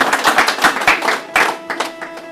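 An audience at a Republic Day poetry gathering applauds as poet Neeraj Pandey comes to the stage, a brisk burst of scattered clapping close by, loud and uneven.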